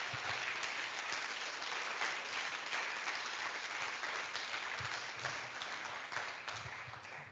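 A convention audience claps steadily after a lightning talk at the lernOS Convention 2023, a dense, even wash of many hands lasting several seconds and fading slightly at the end.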